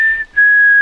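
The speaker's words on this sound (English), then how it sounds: "You do the little whistle?" A person whistles a short bright tone with a brief dip midway, close and loud, alone without talk, during a hunting trip in Colorado elk country.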